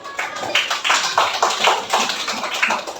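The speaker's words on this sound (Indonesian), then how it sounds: "Silakan nanti dari tepuk tangan dulu untuk kelompok 1" A classroom of students claps for a group, a dense run of quick overlapping hand claps lasting the whole stretch, fairly close and steady.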